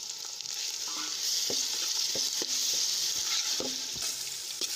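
Chopped tomatoes tipped into onions frying on a wood-fired clay stove, a steady close sizzle with scattered stirring scrapes and clicks, no voices.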